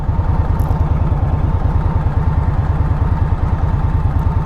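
An Indian Scout motorcycle being ridden home after its 500-mile service, its engine throbbing loudly and steadily up close with a constant rhythmic pulse, no talking.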